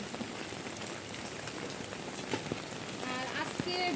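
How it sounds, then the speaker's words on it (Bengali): The first rain of summer after a long dry spell falls in a steady, dense patter on surfaces, close and even throughout, with a faint voice briefly heard near the end. "বৃষ্টিটা আসলে একটা মজার বৃষ্টি অনেক দিন পর বৃষ্টি"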